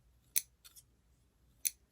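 Sharp sewing shears snip cleanly through material, two crisp close cuts about a second apart with a softer snip in between, alone over faint room noise.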